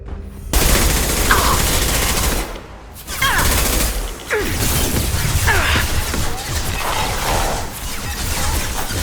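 Turret gunfire in Mass Effect 2, a sustained barrage of loud, rapid automatic shots with heavy impacts and brief pauses, continuing almost throughout under game ambience.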